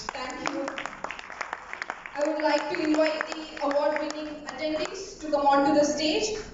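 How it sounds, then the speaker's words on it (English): Audience clapping at an education award ceremony: scattered hand claps crackle at moderate distance, clearest at the start and then continuing beneath a voice speaking over a sound system. "Please feel free to applaud as your heart wish"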